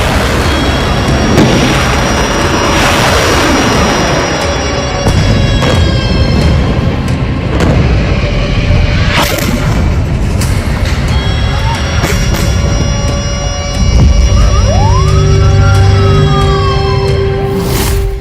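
Sirens wail continuously during rocket attacks in Israel, with heavy booms and rumbling explosions beneath, loud and dense throughout.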